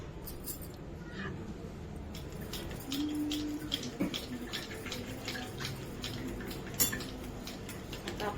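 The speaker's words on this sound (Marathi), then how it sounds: "आणि याला थोडं रवीनी घोटून घेऊ" A wooden churner whisks raw mango pulp thinned with water in a kitchen vessel, giving a steady run of close, rhythmic wet swishing and light knocking strokes with no one talking over it.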